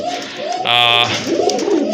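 A pair of deep red pigeons coo in one strong, close burst of about half a second, set between stretches of quieter background murmur.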